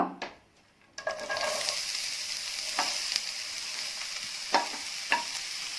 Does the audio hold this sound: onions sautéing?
yes